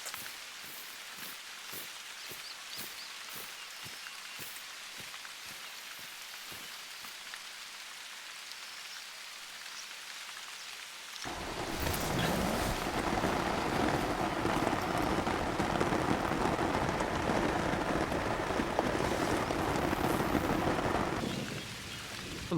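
Rain falling over a swamp in theHunter: Call of the Wild, a quiet stretch of sparse clicks before a dense, steady downpour hiss sets in halfway and continues loudly, no voices.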